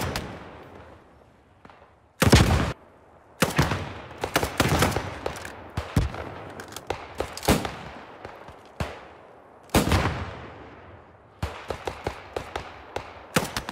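Gunfire in the WWII shooter Post Scriptum, including a Gewehr 43 or 41 rifle: sharp, loud single shots and short bursts crack at irregular intervals, some close and some distant, with no voices.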